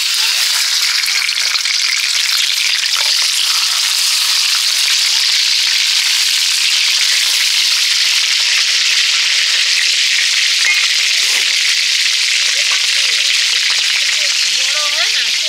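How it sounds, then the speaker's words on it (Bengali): A rohu fish head fries in hot oil at an outdoor family picnic, a loud, close, unbroken hiss of sizzling that runs for over fifteen seconds with faint voices behind. "মাছের মাথাটা ভেজে নেব, রুই মাছের মাথা"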